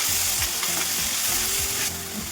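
Avarekalu (field bean) palya frying in oil in a pan with curry leaves, a steady close sizzle with soft stirring scrapes throughout, no voices.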